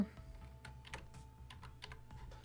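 Keys on a computer keyboard tapped in a short, uneven burst while entering a spreadsheet formula, a few distinct clicks close by over a faint steady hum.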